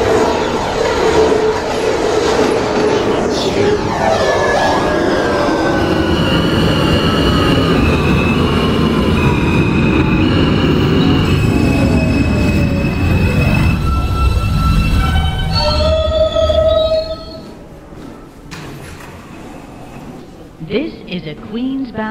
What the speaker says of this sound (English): the next train is now arriving on the local track